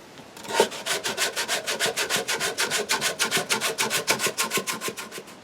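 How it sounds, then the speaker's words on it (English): Rhythmic rasping strokes of sandpaper on a sycamore wooden bowl, fast and even, close up and fairly loud with no talking. "I'll finish up the sanding"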